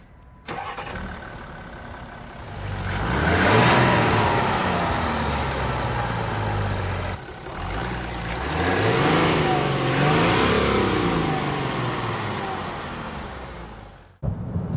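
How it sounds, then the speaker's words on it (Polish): A Land Rover Discovery's 3.0-litre six-cylinder diesel engine cranks and fires up, then revs up and down twice with a gruff, rising roar before settling and cutting off near the end. "To jest dziwne, żeby człowiek zachwycał się dźwiękiem diesla, siedząc w SUV-ie."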